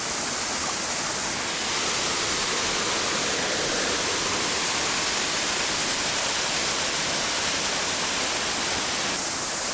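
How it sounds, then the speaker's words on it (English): A steady, loud rush of falling water at Baskins Creek Falls roars without a break, a dense hiss that fills the whole scene. "that waterfall is still going pretty good"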